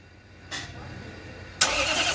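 A Korando car whose engine is mounted on its first hand cranks and catches in a short burst, settling into a steady, fairly quiet running hum close by; no voices are heard.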